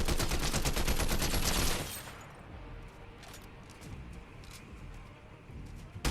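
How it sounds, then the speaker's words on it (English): Rapid assault rifle fire in a Fortnite zero build solo match, a loud sustained burst of shots followed by quieter scattered shots and game sounds. "Just kept firing, hitting every shot with this type of AR is kind of wild."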